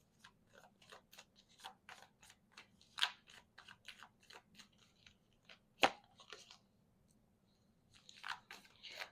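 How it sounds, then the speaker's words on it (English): Playing cards being shuffled over and over, crisp riffling bursts in a steady irregular rhythm, close and fairly quiet over a low background hum, with no talking. "I'm just here shuffling cards as usual."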